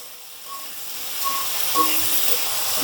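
Salted okra frying in a pan of oil, a soft, even sizzle and hiss close by, with a few faint clicks of stirring.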